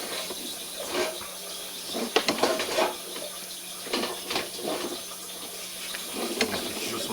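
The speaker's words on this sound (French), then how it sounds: "Ça coule tout bien." Water rushes through toilet drain pipes in a steady flow, with irregular splashing surges and gurgles rising over a constant hiss.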